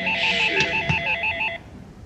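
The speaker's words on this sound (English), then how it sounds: "awakened by the incessant ringing of a telephone" Telephone ringing with rapid repeated electronic trill bursts, loud and close, cutting off partway through and leaving quiet room noise.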